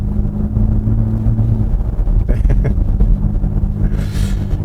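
A steady synthetic engine drone from a 2022 Genesis GV60 Performance AWD electric car, with a low rumbling hum, swelling briefly as if revving, then settling back into a continuous electronic motor tone.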